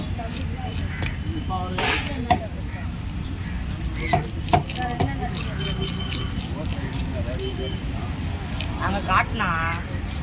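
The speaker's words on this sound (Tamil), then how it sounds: "நீங்கள் மீன் வெட்டுறதை மட்டும் தான் எடுக்கிறேன்" Fish are cut at the Retteri fish market, with sharp knife chops and thuds on a board among busy market chatter and voices.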